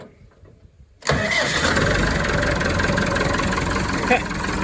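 After a brief quiet moment, a tractor engine cranks and fires up abruptly, then settles into a loud, steady rumbling idle close by.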